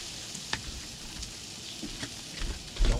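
Beyond Burger patty sizzling on a portable Grill2Go in an RV setting, a steady crackling sizzle with sharp pops and a few louder thumps toward the end.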